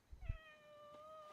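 A cat in the video game Heartopia gives one drawn-out meow, a clear tonal cry that sustains and fades slowly after a brief low thump, heard alone and fairly quiet.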